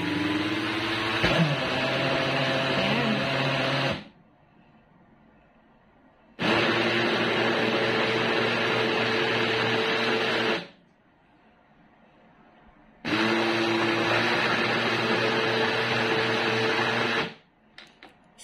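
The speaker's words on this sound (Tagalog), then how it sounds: "Then, i-blender ulit natin." Kitchen blender grinding rice batter for puto runs loud and steady in three bursts, each about four seconds long, with short quiet pauses between them.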